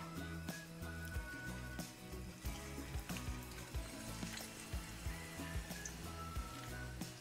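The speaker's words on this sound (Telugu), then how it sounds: "నూనె వేడెక్కాక తీసుకొని నూనెలో వేసుకోవడమే" Eggplant slices fry in hot oil with a steady close sizzle, broken by frequent small pops and crackles, and no one speaks.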